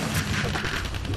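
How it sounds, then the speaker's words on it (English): A dense, rumbling explosion burst in Minecraft Dungeons, loud and continuous for about a second with no clear gaps. "Holy shit, explosion."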